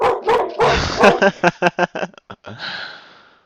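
A dog barks and yips in a rapid, loud run of short sharp barks close by, ending in a drawn-out whine.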